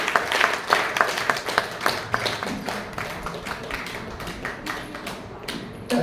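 An audience at a talk on healthy lifestyle claps for Savita: a moderate round of hand applause, individual claps distinct and fairly close, steady for several seconds before thinning out.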